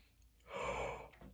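A horn player takes a single deep, audible breath, a drawn-in rush of air that swells and fades, heard up close.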